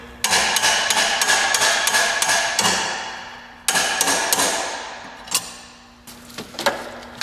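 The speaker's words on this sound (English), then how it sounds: "A couple of taps of the hammer should do it." A hammer taps sharply in a quick run of strikes, pauses, then taps again several more times, close and metallic, while fitting a water pump on a 1998 Chevy Tahoe 5.7L.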